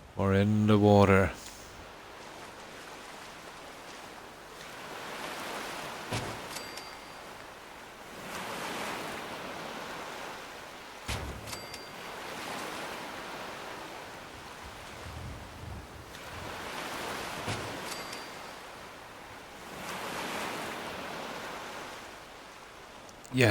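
Water sloshing and splashing in Fallout 4 settlement gameplay, soft surging washes that rise and fall in slow waves alongside faint game tones, no talking over it.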